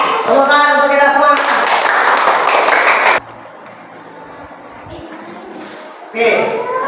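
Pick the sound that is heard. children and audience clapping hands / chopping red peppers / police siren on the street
children and audience clapping hands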